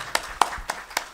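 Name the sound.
audience clapping for the panel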